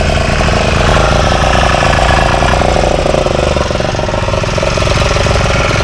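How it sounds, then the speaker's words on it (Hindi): A motorboat engine on Chilika lake runs loud and close with a steady, rough idling rumble and mechanical knock that holds unchanged from start to finish. "हमारे ड्राइवर बाबू अभी बोट को चालू करने वाले हैं"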